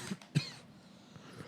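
Two sharp coughs close together near the start, the second louder, followed by quiet room tone with faint breathing.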